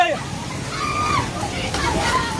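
Floodwater in Nepal rushes and sloshes steadily close by, a continuous churning wash with frightened voices calling out over it.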